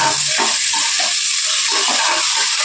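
Two large onions and two or three green chillies with spices sizzle and fry steadily in a pan, with occasional stirring scrapes under a continuous hiss, close and loud.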